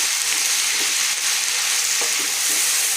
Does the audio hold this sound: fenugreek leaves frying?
yes